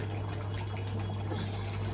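Water pours into a pot of chicken curry, a faint, steady trickling stream under a constant low hum of the kitchen, with no talking.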